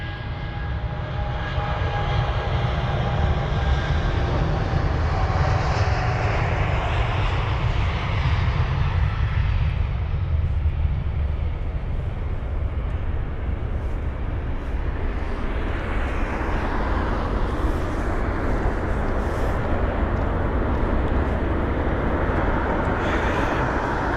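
A ten-year-old British Airways Boeing 787-8 Dreamliner takes off from London Heathrow, its jet engines giving a loud, sustained broadband roar that holds steady throughout and slowly shifts in tone as the aircraft moves away.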